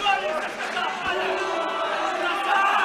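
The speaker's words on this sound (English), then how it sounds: "the English fans cheer" Crowd of English fans cheering at a caged fight in a combat event arena, a dense, steady roar of voices and chatter filling the whole stretch, swelling slightly toward the end.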